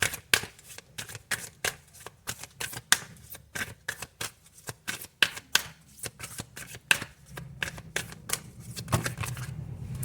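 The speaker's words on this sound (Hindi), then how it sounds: "अगर आपको कार्ड शफलिंग पसंद नहीं है तो आप इसको स्किप कर सकते हैं" Tarot cards are shuffled by hand in a rapid series of crisp riffling bursts and slaps, close and distinct, repeating in uneven rhythm throughout with no voice over it.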